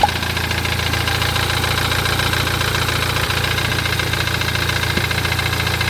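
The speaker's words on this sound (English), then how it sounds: "seems like the car is idling a little bit better" A BMW X1 engine idles roughly up close with smoke coming from the engine bay, a constant low rumble with slight roughness and occasional faint knocks, no voices.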